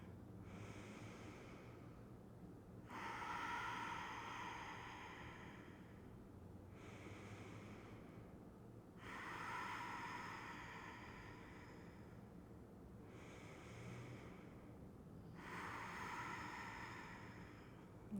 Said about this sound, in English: nice deep breath in through your nose, out through your nose